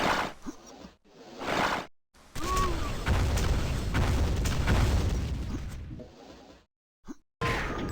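Rocket fire and explosions in a first-person shooter match, heard as a sequence of booming blasts and whooshes. A long rumbling burst fills the middle, with short, sharp bursts before and after, separated by brief silences.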